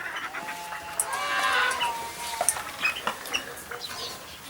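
Chickens cluck and squawk nearby in short, irregular bursts over a quiet outdoor background.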